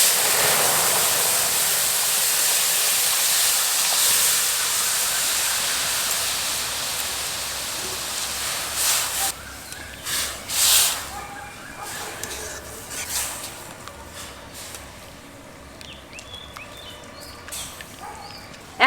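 Boiled chana dal tipped into a hot pan with spices and Kashmiri red chilli powder, giving a loud broad sizzle and hiss that gradually fades, followed by scattered stirring clatters.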